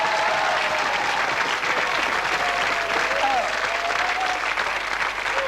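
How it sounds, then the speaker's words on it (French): A television game show studio audience breaks into sustained, loud applause, dense clapping holding steady for several seconds with faint tonal music or voices drifting underneath. "ça mérite un tollé d'applaudissements"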